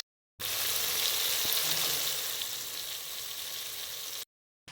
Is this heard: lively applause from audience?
no